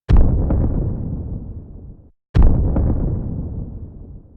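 Redesigned Skyrim destruction magic impact sound, two loud booming impacts one after another, each a sharp burst that decays into a rumbling tail, with a brief silence between them.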